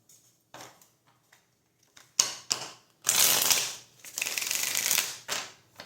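Oracle cards being shuffled by hand during a card reading, with a few soft riffles and taps followed by two longer, brisk bursts of card flutter, close and fairly loud, with no talking.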